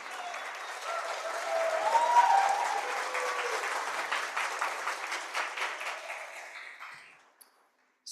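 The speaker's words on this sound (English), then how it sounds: "Can we give another round of applause to Emma?" Sustained applause from a live audience for a performer named Emma at a café science talk on South African languages, a dense mass of clapping with a fuller swell midway that holds steady and then cuts off abruptly near the end.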